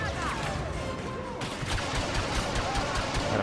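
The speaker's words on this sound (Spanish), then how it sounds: "veo disparos, pero no veo a la gente" Dense, continuous blaster and gunfire from a Star Wars Battlefront 2 campaign battle rattles on without a break, loud and busy throughout.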